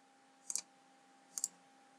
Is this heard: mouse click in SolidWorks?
yes